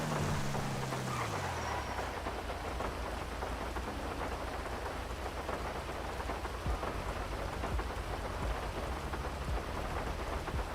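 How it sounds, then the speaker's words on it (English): Heavy rain falls in a video game, a dense, constant downpour with a low thunder rumble fading early, steady and enveloping with no voices. "And it's raining."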